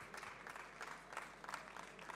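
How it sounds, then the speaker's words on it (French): Applause at the Laval Virtual 2018 VR & AR awards ceremony as a presenter is called to the stage: a steady, fairly quiet patter of many hands clapping with slight peaks, heard without talk. "Frédéric, oui, on applaudit."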